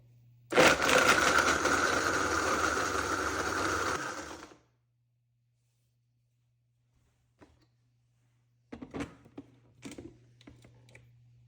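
A blender on its smoothie setting, blending a thick gluten-free, dairy-free protein breakfast smoothie, runs loud and steady for about four seconds, then cuts off, followed by a few faint clicks and small knocks close by.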